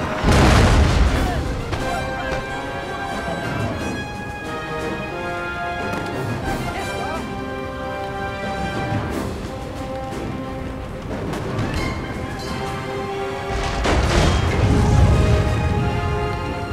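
Howitzer artillery fire in Napoleon: Total War during a Britain versus France online battle, deep booms at the start and again near the end over continuous battle din and music, with someone talking over it.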